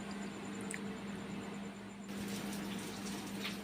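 An eggplant is rinsed under steady running tap water, a continuous close splashing flow that shifts slightly partway through as the vegetable moves in the stream.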